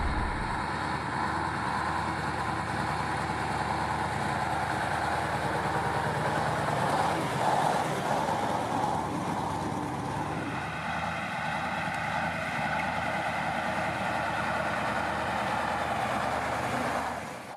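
Diesel engine of a Soviet KrAZ-256B1 heavy dump truck runs steadily at close range, a constant low rumble with no speech, the tone shifting slightly partway through.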